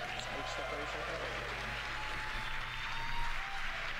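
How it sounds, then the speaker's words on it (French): Applause rises from a crowd during a rocket launch broadcast, heard as a steady dense patter of many hands at moderate distance, partly mixed with voices and background hum. "Les applaudissements traditionnels."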